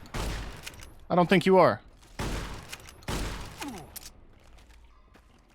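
Gunshots in Fallout: New Vegas crack in a few sharp, loud bursts with decaying tails, separated by gaps, while someone speaks between the shots.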